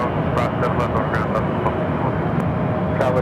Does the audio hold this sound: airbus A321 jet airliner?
yes